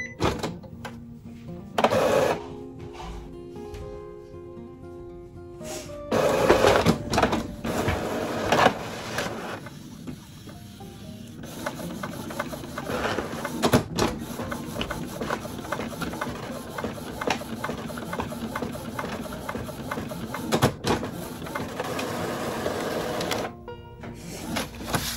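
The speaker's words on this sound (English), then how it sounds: "Perform a printhead nozzle check to check print quality. So we're going to go ahead and click print." An Epson 15000 printer running a printhead nozzle check, with a whirring carriage, mechanical clicks and clunks, and bursts of rhythmic printing noise over about twenty-five seconds.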